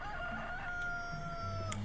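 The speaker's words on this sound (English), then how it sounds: "Somewhere off in the distance a rooster crows" A rooster crows off in the distance, one long drawn-out call with a wavering, sustained tone over a steady low background hum, no voices.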